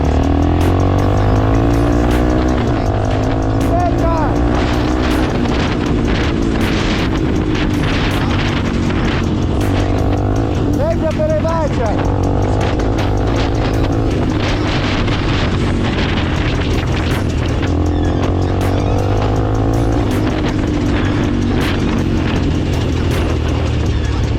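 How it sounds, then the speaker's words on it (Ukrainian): Irbis Z1 motorcycle, a Chinese copy of the Honda CBR600RR, with an engine that won't hold idle, revving hard while being ridden, loud and continuous with gear changes and wind buffeting the microphone. "на ньому треба газувати, бо він на холостик не тримає"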